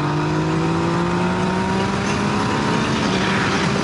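Yamaha MT-09 SP motorcycle engine pulling hard through third gear, a steady rising drone with slowly climbing pitch, loud and close with wind noise throughout and no talk.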